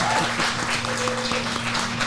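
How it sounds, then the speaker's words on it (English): An audience gives a co-host steady applause, a dense patter of clapping that holds at moderate volume throughout, with faint voices underneath. "Please give her a round of applause."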